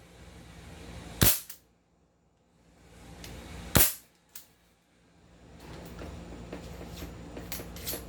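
An MK1 carbine rifle fires two loud, sharp shots a few seconds apart, each with a brief echoing tail, followed by quieter mechanical handling sounds and faint outdoor background.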